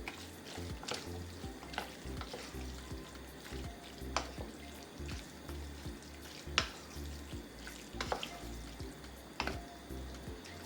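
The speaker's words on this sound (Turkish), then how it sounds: "Pişen sosumla birlikte süzdüğüm makarnamla birlikte iyice harmanlıyorum." Drained pasta being tossed together with a cooked vegetable sauce in a pan, giving a steady wet stirring and sizzling texture with scattered sharp clinks of a utensil against the cookware, close and moderately loud, no talking.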